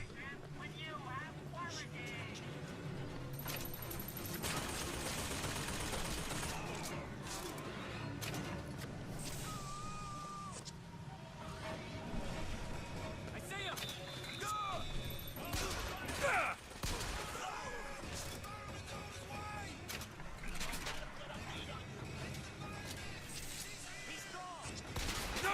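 Gunfire from shooting enemies in the video game Bioshock Infinite, with repeated shots over a dense, continuous mix of game sound effects and music throughout.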